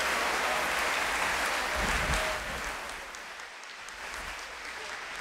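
Applause from a Flag Day audience for the Pops Orchestra, a broad wash of clapping that fades somewhat partway through, with low rumbles underneath and no clear speech.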